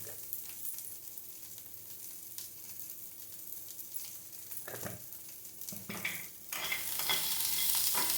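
Capsicum pieces fry with a little salt in a pan, giving a steady close sizzle with scraping stir strokes midway that grow louder and busier toward the end.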